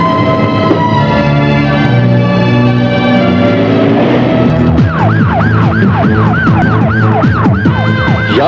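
A police car siren, used as a movie sound effect, starts a loud, fast, repeating up-down wail halfway through, over a steady drone of traffic and engine hum.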